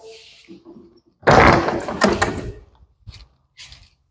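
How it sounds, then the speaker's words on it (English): A powered side door on a wheelchair-accessible vehicle slides open with a loud mechanical whir and clunk, followed by a few softer motor whines and clicks as the wheelchair ramp moves. "Ramp is accessible just here through these side doors. Operates conveniently, little remote control."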